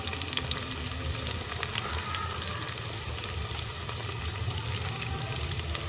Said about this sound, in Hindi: अब हम इसमें अदरक डालेंगे पिसा हुआ,